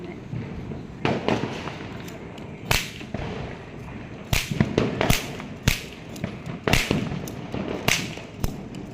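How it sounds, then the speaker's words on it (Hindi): Firecrackers burst during Diwali festivities as a rapid, irregular run of sharp cracks and pops, some loud and near and others farther off, over a steady background din. "बहुत पटाखे जल रहे हैं"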